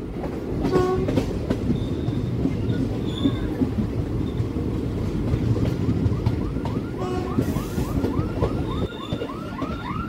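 The Hazarduari Express, an Indian passenger train on the Kolkata–Lalgola line, rumbles along the rails with steady clickety-clack and intermittent high wheel squeals, heard from on board at moderate loudness without talk.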